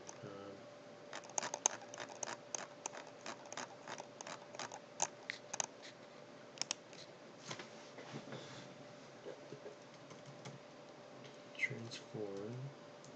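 Keys clatter in quick bursts and separate taps while code is typed on a computer keyboard, fairly close but quiet against a steady background hum.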